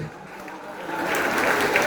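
Clapping from a group of students at a school assembly swells gradually, growing louder toward the end.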